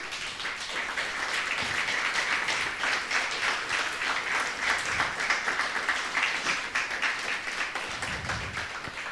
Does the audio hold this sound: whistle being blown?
no